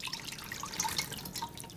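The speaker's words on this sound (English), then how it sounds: "We're going to pour it in, and you can see this is mostly fat." Rendered pork and duck fat liquid pours from a pot, a short run of dripping, trickling liquid with small splashes, close and fairly faint, no talking.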